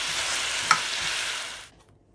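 Sticky pineapple chicken wings stirred in a pan with leaves, a steady close sizzle and scraping with one sharp clack midway, cutting off to near silence at the end.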